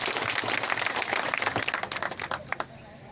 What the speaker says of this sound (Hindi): तो इनके लिए एक बार तालियां बजाएं साथियों।